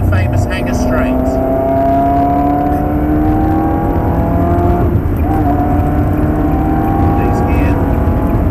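A Ferrari accelerates hard down the Silverstone circuit, its loud, steady engine note climbing through the revs, dropping briefly on an upshift, then climbing again right up close.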